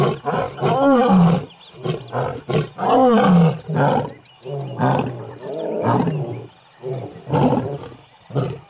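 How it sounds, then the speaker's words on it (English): A lion roars on safari in Africa, close and powerful, with a series of deep grunting bursts that swell and fade in a repeating rhythm over several seconds, with no talk over them. "You cannot get sick of a lion roaring."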